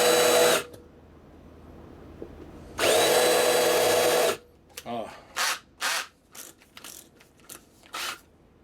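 A power drill with a dull bit whirs in two sustained bursts, then gives a string of short, stuttering pulses as the trigger is tapped, close by.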